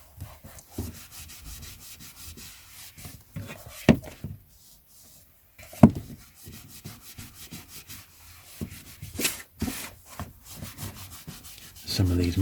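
Old UK paperback books are wiped clean with soft, close rubbing and scuffing strokes in irregular bursts, broken by brief pauses and a few sharper taps of handling.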